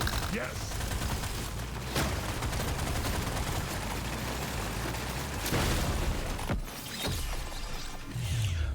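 Gunfire and explosions from a Deep Rock Galactic: Survivor fight against a swarm make a dense, continuous barrage of rapid shots with a few heavier booms, loud and busy throughout, while a voice talks underneath.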